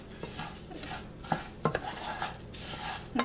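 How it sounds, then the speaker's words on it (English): Rice stirred with a wooden spoon in a pot for Mexican/Spanish rice, soft scraping with several sharp knocks and clatters against the pot over a faint sizzle. "And I just take a wooden spoon and I stir it"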